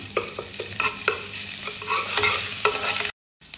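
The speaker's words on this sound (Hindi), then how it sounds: "मैं इसके अंदर ऐड करूँगी हाफ़ टेबल स्पून अदरक, हाफ़ टेबल स्पून लहसुन। हल्का सा इसको सौते करेंगे" Ginger and garlic sautéing in a pan, a light sizzle broken by repeated scraping stirs of a spoon, close and alone, ending in a brief cut to silence.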